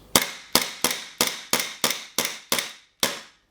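WE P226 and P228 gas blowback airsoft pistols fire eight sharp, close shots at a steady, fairly quick pace, each crisp crack followed by a short decay, with a slightly longer pause before the last.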